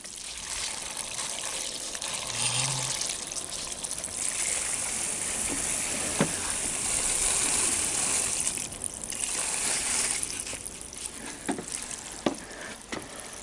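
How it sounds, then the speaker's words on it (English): Water leaks from a faulty boat water pump as a steady hissing trickle and spray, loud and constant, broken by a few sharp clicks and knocks near the end. "And we have a leak from somewhere."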